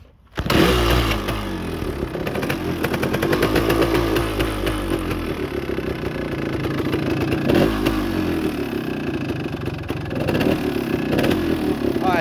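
A 1975 Yamaha DT400 big-bore two-stroke motorcycle, still a little cold, starts and idles with a loud, rapid buzzing rattle, blipped revs and clattering pulses close by.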